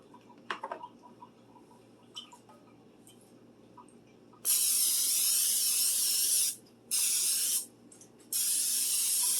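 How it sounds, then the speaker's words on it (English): After a few soft clicks and taps, an aerosol can of butter spray sprays a bread pan in three long hissing bursts, loud and close, with brief pauses between them. "I'm going to spray it with butter spray."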